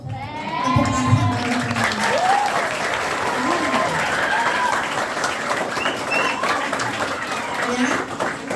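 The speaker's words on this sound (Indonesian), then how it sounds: "Keren nggak? Tepuk tangan." Seminar audience at a school youth nutrition event clapping steadily throughout, a dense, even wash of applause with a few voices rising over it.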